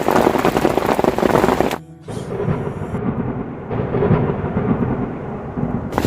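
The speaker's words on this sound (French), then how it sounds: "Ouais, c'est une bonne averse." A heavy downpour pounds at a dam reservoir lake while thunder rumbles loudly. A dense wash of rain continues throughout, briefly dipping before the roar returns, with no voices.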